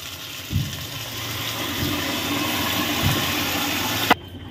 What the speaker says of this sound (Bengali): এবারে আমি এর মধ্যে ঢেলে দেব সেদ্ধ করে রাখা মুগ ডাল